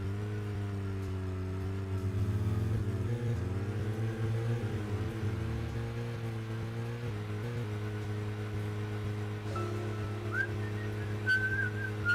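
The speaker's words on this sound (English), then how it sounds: "you really should not be whistling, York." York, the detective in the video game Deadly Premonition, whistles a steady tune over a constant low engine-like drone. The melody continues throughout with no talking.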